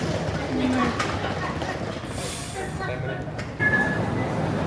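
Rumbling metro train noise in a busy station, with mechanical clanks, a rising whine, and a crowd murmuring nearby.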